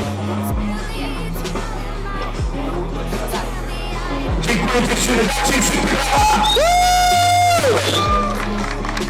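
Crowd cheering and whooping with applause at an international armwrestling championship in Hel, a loud continuous din, with amplified music or a horn tone rising partway through and voices mixed in.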